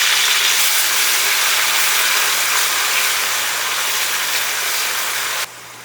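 Chopped tomatoes hitting hot oil with fried onions in a pan for Chennai-style biryani, a steady loud sizzle and hiss that drops off sharply near the end.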